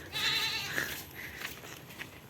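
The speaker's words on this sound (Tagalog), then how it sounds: "Ayun, may kambing." A goat bleats near a road on a walk past rice paddies in the countryside, one drawn-out wavering bleat up front followed by fainter calls, against steady outdoor background noise.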